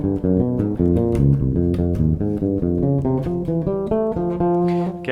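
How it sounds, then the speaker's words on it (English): Bass guitar plays the opening fragment of a difficult line, a quick run of distinct plucked notes that shift in pitch, loud and close, with no talking. "So the opening of the line sounds like this"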